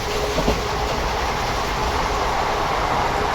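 A passenger train rolls along toward the next station, a steady broadband rumble with a faint clack near the start, heard continuously from inside the carriage with no voices.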